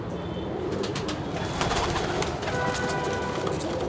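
Pigeons cooing steadily among a loft of racing birds kept by a pigeon flyer, a continuous close chorus of soft coos with scattered higher chirps and flutters layered throughout.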